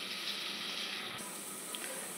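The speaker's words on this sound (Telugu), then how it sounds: "కొన్ని నీళ్ళు పోసుకొని" Water is poured into a cooking pot while a dish with dried chilli seeds is being cooked, a faint, continuous splashing stream that changes tone partway through.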